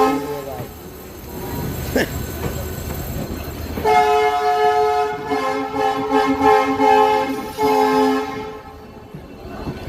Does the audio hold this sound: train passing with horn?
yes